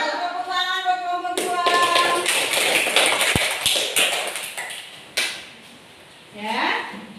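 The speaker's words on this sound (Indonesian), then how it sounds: "Tepuk tangan buat kelompok" Students in a classroom clap for a presenting group, a short spell of close, uneven claps amid voices, fading out before a brief final stir.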